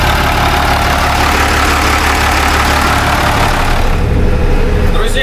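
An MTZ tractor engine runs steadily at close range with a constant low drone while the tractor drives home at the end of a shift after harrowing, and the tone thins slightly near the end.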